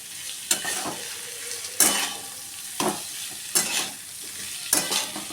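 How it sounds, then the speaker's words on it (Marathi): Vegetables and mashed potatoes for a Pune-style vada filling are stirred in a hot pan, with a steady sizzle beneath several distinct scraping strokes about one second apart, close and clear with no talking. "याला आपण चांगले व्यवस्थित हलवून घेऊया."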